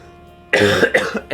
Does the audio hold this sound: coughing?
yes